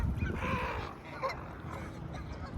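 Geese at a small lake honk and squeal in a noisy, overlapping chorus, moderately loud and close, with a few sharper calls standing out over a steady background murmur.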